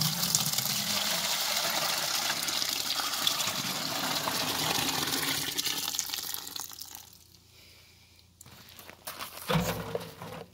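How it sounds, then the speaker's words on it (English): Water gushing from a tap into a yellowjacket vacuum container, a loud steady rushing pour that drops away near the end before a short clunk and renewed splashing. "I gotta put some water in this."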